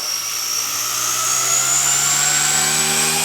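Blade 150S RC helicopter rotor spinning up with throttle hold off, a steady high-pitched motor whine with rising tonal harmonics, close and continuous.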